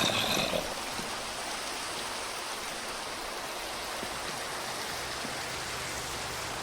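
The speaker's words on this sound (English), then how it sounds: "Okay, the rain has cleared up now." Steady rain in Minecraft falls as a soft, even hiss of drops with no break, faint and constant throughout.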